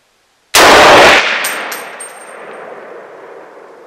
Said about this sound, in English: I'm going to shoot out to 50